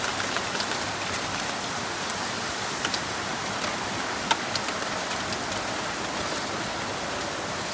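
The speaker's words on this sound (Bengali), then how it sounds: "দেখেন দূরে সুরে নেমে পড়লো বৃষ্টি।" Steady heavy rainfall in Dhaka after a hot spell, a continuous broad hiss with a few faint drips and knocks and no voices.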